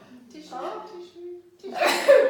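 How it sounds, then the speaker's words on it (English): A person sneezes loudly and close up, right after a drawn-out intake of breath with a voiced build-up. "I'm going to sneeze"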